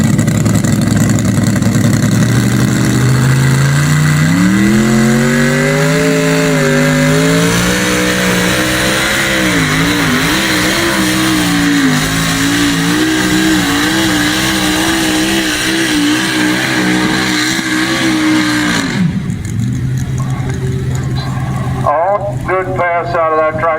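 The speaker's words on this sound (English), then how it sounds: "Stephan Winger and the Pitbull 500 cubic inch big block Chevy from Shippensburg." A 500 cubic inch big block Chevy mini tractor roars through a pull at the Franklin County Fair, its loud engine climbing and holding a high revving whine for nearly twenty seconds before cutting off, with an announcer talking over it.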